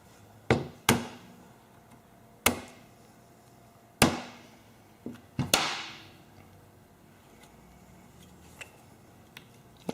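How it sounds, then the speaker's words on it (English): A hammer taps a Briggs starter part down into place with several sharp metallic strikes spaced irregularly, some ringing briefly, in a quiet workshop. "you can press it down the rest of the way with a hammer"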